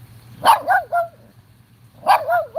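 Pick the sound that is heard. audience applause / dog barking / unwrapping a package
dog barking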